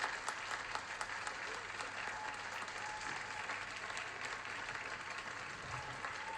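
Steady applause from a large audience at a product keynote, dense and continuous clapping that holds at an even level throughout.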